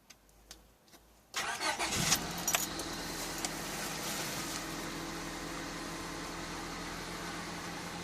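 A Honda HR-V with an oxygen sensor fault cranks and starts after a key jingle, then settles into a steady, close idle hum that carries on alone.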